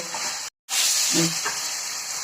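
Potatoes sizzle steadily in a hot pan while being stirred for an Assamese-style eggplant bharta. There is a brief dropout, then the hiss resumes with a few soft scrapes from the stirring.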